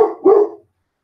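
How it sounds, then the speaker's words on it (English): A dog barks twice in quick succession, loud and close, the second bark longer, then silence follows. "got some doggy drama going on"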